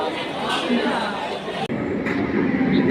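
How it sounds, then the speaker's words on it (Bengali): A train pulls into a station platform, with a steady broad rumble and rail noise throughout, loud and near, and people chattering faintly in the background. "ট্রেন চলে এসেছে এবার আমরা ট্রেনে উঠবো"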